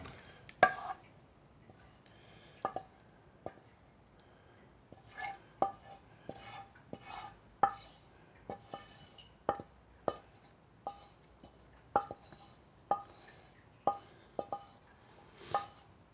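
Madras curry being served into a new bowl, with a steady series of sharp ceramic clinks and scrapes from utensil against dish, spaced about a second apart in an otherwise quiet kitchen.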